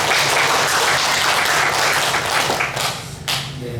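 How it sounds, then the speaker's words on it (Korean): Loud applause from a large church congregation during a Sunday worship service, sustained and dense before thinning out with a few final claps. "우리가 이 시간 감사와 영광의 박수를 한번 올려드렸으면 좋겠습니다"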